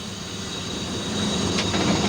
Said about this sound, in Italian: Il treno ora frena